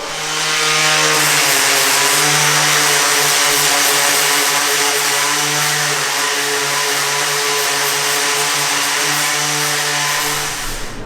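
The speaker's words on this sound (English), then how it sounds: "I will keep it simple and use a grinder that maybe you all have" A handheld grinder works a garage concrete floor as prep for epoxy, a loud, steady motorized whine with a strong tonal hum that runs continuously and close without pause or talk.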